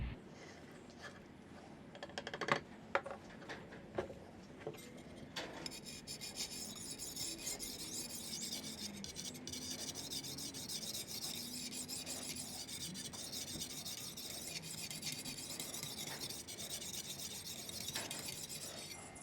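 A kitchen knife is drawn over an oiled sharpening stone in quiet, repeated rasping strokes, close and faint, after a few sharper knocks at the start.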